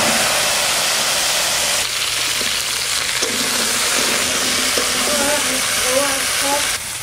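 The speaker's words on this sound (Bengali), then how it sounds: "তেলের মধ্যে দিয়ে দেবো আলু" Potatoes dropped into hot oil with cumin, bay leaf and dried chilli give a steady, loud, close sizzle that runs the whole time, with faint stirring and clinks over it.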